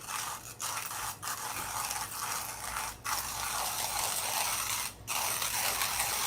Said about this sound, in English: So this is the first time grinding this. It's pretty easy to grind.